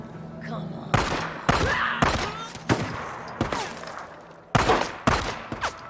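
Gunfire in the video game Days Gone, several loud sharp shots in irregular bursts with echoing tails, mixed with a player's voice reacting.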